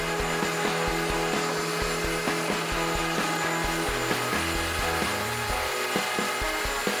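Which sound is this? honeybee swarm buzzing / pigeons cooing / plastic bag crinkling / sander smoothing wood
sander smoothing wood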